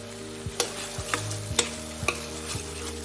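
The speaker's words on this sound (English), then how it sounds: "Give it a good mix." A spoon stirs thick yogurt into a tomato curry base in a pan over a low flame, making a series of soft scraping strokes at a steady rhythm over a faint background sizzle.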